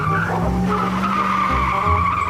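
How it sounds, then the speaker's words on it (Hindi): A car backing up with its tires skidding and squealing, a loud continuous screech held close throughout with engine rumble beneath. "चल भाई जल्दी से गाड़ी पीछे ले ले।"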